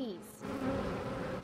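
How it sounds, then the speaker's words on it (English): A dense swarm of honeybees in a Salinas neighborhood hums and buzzes continuously, a wavering drone that stays steady throughout. "So many swarming honeybees"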